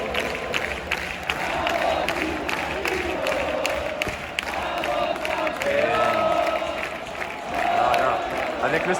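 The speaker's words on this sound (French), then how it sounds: "Sous les applaudissements." Stadium crowd at Villarreal's Estadio de la Cerámica, with steady applause and cheering filling the space, swelling and easing over several seconds while voices talk over it.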